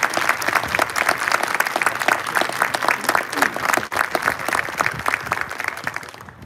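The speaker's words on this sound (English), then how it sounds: "Please join us in a round of applause to all of these cadets for their outstanding servant leadership." Outdoor audience applause for cadets at a Memorial Day parade at a military college, steady and sustained clapping from a sizable crowd that continues for several seconds.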